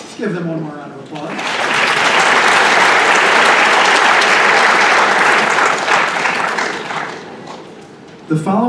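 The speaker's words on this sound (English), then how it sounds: "Give them one more round of applause." Sustained audience applause at a school academic awards ceremony, rising quickly after a brief voice and holding steady for several seconds as a dense wash of many hands clapping, then fading as a voice returns near the end.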